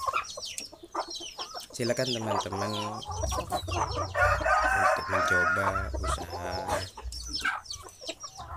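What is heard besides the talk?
free-range village chickens and chicks clucking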